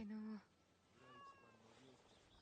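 A cat meows twice inside the Assassin's Creed Shadows game, a clear close mew at the start followed by a softer, longer plaintive meow, with quiet game ambience underneath.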